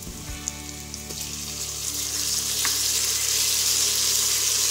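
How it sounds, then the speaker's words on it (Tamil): Onions and tomatoes sauté in an Instant Pot for a fish curry, giving a steady, close sizzle and frying hiss that swells slightly louder partway through, with no talk over it. "இந்த ஸ்டேஜில் வந்து நம்ம தக்காளியை சேர்த்து வதக்கிக்கலாம்."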